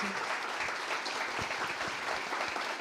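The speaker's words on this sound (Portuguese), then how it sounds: "Lara e Estênio aplaudem e sorriem." An audience at an author event at a chamber library applauds, a steady, close wash of many hands clapping that fills the whole moment without speech.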